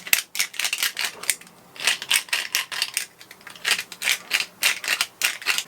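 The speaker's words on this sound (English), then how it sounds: "Then there's a deburring tool here, so I can deburr this end of the pipe." A deburring tool scrapes around the freshly cut end of a pipe with rapid, rhythmic rasping strokes, close and continuous, on a boat water system.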